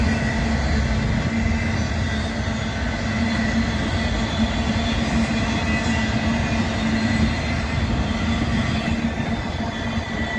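A Kansas City Southern freight train crosses the Highway 72 bridge, its wagons rolling past in a continuous loud rumble with a faint sustained wheel squeal, heard close and alone.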